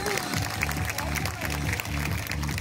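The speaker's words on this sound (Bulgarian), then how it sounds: "моля вашите аплодисменти!" An audience at a Guinness record attempt show in Vidin claps in a dense, continuous wash, with a rhythmic low pulse running underneath.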